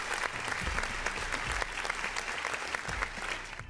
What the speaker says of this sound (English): we only have the hand clap sound effect